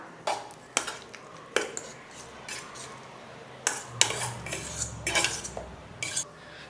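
A spoon scrapes and clacks against a bowl in short irregular bursts as rice flour batter is mixed by hand, with soft wet stirring between the strikes.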